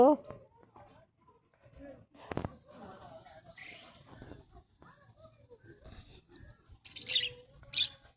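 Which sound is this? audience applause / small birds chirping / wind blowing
small birds chirping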